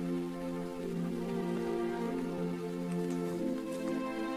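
Rain falls steadily on a forest, a constant soft patter that continues without a break beneath a sustained, droning tonal hum.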